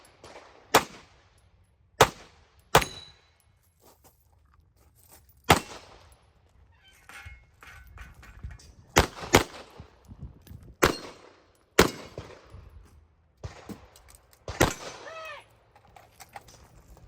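Rifle shots at an outdoor shooting match ring out as sharp, loud cracks spaced irregularly over several seconds, some in quick pairs, with quieter distant reports and faint clatter between them.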